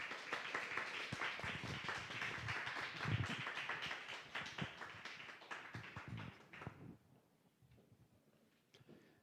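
Audience applause in a church hall at a Friday prayer meeting, welcoming a guest speaker to the stage: dense, steady clapping that fills the room for several seconds, then thins out and fades.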